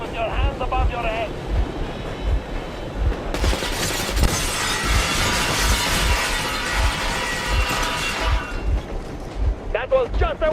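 Warning gunfire in the video game Metro Exodus breaks out as a sudden, loud, sustained burst over a rumbling boat engine and water. Speech is heard before and after.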